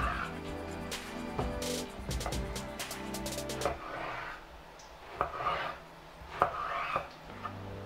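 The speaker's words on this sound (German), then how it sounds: "Auch da so ca. 2 bis 3 cm dicke Scheiben runterschneiden." A knife cuts a vegetable into thick slices on a cutting board for a gnocchi bake, giving a burst of quick chops followed by slower separate cuts and light scraping, close and fairly quiet.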